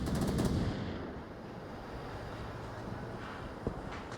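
Distant bursts of automatic gunfire in a multiplayer shooter match, faint rattling volleys under a steady windy background hiss, with a louder crack near the end.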